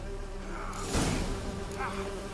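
Bees hum around beehives in Witcher 3, a soft continuous buzz under game ambience, with a brief whooshing swell near the middle.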